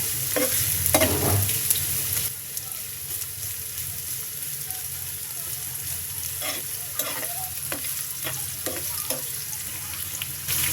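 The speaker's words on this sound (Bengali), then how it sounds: "এটাকে আমি ভেজে নেব" Pointed gourd (potol) frying in oil in a pan, a continuous close sizzle with intermittent stirring scrapes, busier and louder at first, then settling to an even hiss.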